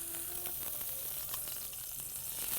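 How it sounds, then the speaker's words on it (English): Scallops searing in a hot pan give off a steady, close sizzle and crackle, with faint scraping ticks and no talking. "That's the kind of sear you want on a scallop."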